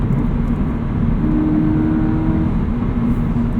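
A 2018 Subaru BRZ tS sports car engine drones steadily at a constant pitch around 5,000 RPM, a low throaty hum with a faint whine riding on top.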